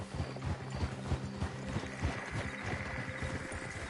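Horse hooves clop steadily as riders dismount in Red Dead Redemption 2, a dense run of close, evenly paced thuds over a constant low hum.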